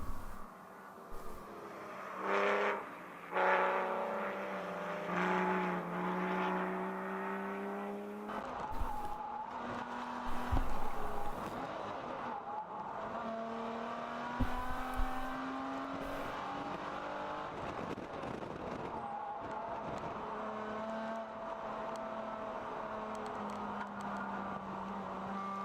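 Race cars in a ChampCar endurance race at NCM, engines revving and roaring as they pass, with tire squeal and skidding through the corners, some near and loud, others farther off, under a constant track drone.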